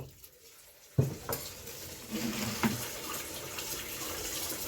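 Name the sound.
water pouring from filter into pot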